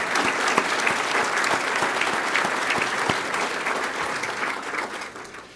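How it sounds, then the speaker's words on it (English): Sustained applause from an audience at the Port of Los Angeles Harbor Department's 2018 State of the Port event, dense steady clapping at even loudness throughout with no voices over it. "give a great round of applause to our graphics department and others"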